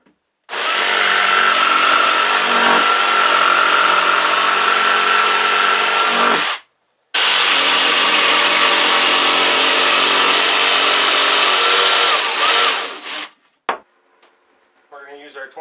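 A power tool cuts through a piece of rough sawn lumber for a closet build, a loud harsh whining buzz running about six seconds, pausing briefly, then continuing another six seconds before winding down, followed by light handling noises.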